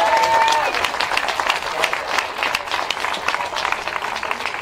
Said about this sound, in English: Put your hands together for your bronze medalist